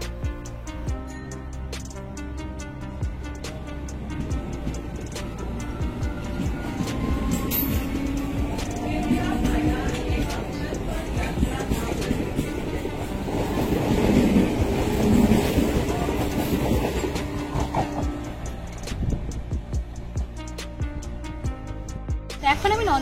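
A train stands and moves through Nandakumar station on the line from Digha, its steady rumble and rattling wheels continuing under the busy station background, with people talking throughout.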